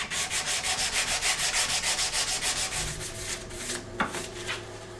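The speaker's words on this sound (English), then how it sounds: "so I'll just keep sanding until that's gone." A Stratocaster guitar neck is sanded with a dowel, giving close, rhythmic back-and-forth rasping strokes, about a dozen in quick succession. The strokes then turn slower and more irregular, with a small knock near the end.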